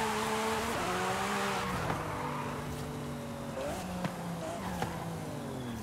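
A fully upgraded all-wheel-drive Lamborghini SVJ in Forza Horizon 5 drifts with a steady engine drone and long, wavering tire squeal, punctuated by a few sharp clicks, no talk.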